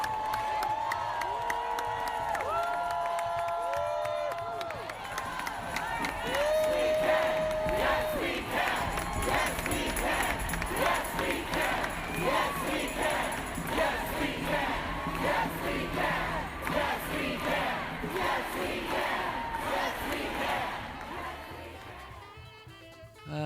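A crowd roars and cheers after news that a judge has stayed an executive order, with shouting, rhythmic yells and scattered clapping building into a loud, sustained outdoor din lasting throughout.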